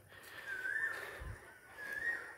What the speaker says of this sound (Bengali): দূরে আমরা কোকিলের ডাক শুনতে পাচ্ছি।